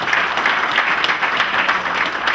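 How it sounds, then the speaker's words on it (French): Sustained audience applause at a church gathering in a Congolese political association's event, a dense steady wash of many hands clapping close and fairly loud throughout, with no voices over it. "Applaudissements"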